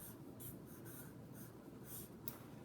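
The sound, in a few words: writing on a board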